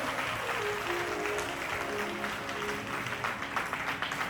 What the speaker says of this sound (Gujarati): એકવાર જોરદાર તાળીઓ આપણા સૌ માટે થવી જોઈએ